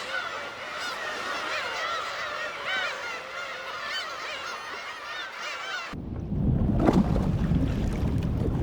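Black-tailed gulls give a dense chorus of repeated mewing, honking calls for several seconds, loud and close, then the calls cut off into a rough gusty rumble of wind or water.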